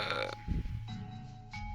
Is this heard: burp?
yes